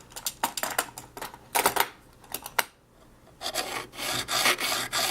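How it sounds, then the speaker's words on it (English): A knife edge is being reprofiled on a coarse sharpening stone: a run of close, quick rasping strokes in short bursts, then a brief pause before another steady series of gritty scrapes. "The longest process of sharpening or reprofiling your knife like this is that first step of actually achieving that angle"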